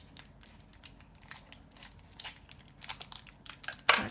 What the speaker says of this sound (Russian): Давай, открывай пакетик, посмотрим